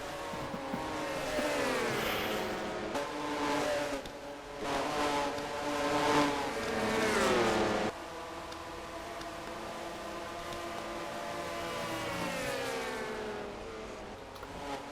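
Stock cars race in a NASCAR-style video game, a steady engine drone with rising and falling whines as cars pass and shift, loud in the first half then settling to a quieter continuous hum.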